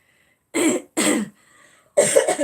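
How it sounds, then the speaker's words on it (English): A few short, sharp coughs in quick succession, close by, separated by brief pauses. "Sorry guys, I've got a little bit of a cough still."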